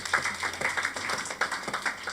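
A church congregation claps together in a steady, dense round of applause, close and fairly loud, with no talk over it.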